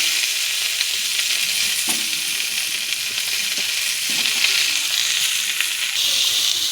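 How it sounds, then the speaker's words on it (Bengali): Cauliflower florets and potato pieces sizzle steadily in hot oil in a pan, a continuous close frying hiss with faint stirring clicks and no talking. "ফুলকপিটা হালকা করে ভাজা হয়ে গেছে, এবার আলুগুলোও হালকা করে ভেজে দেব"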